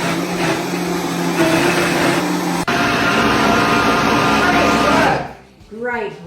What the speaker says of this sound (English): If you're struggling with it blending, because it depends how powerful your blender is